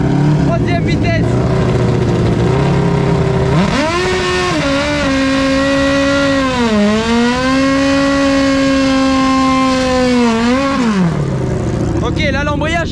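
A twin-cylinder dragster scooter does a burnout in third gear, its engine screaming at high revs in a loud, sustained roar that climbs, holds and drops over several seconds, close by with crowd noise around.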